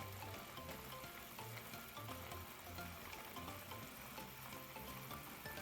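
Chicken adobo simmering in a pan on low heat as marinade is added, a faint, steady sizzle and bubbling with light crackle and soft liquid sounds throughout.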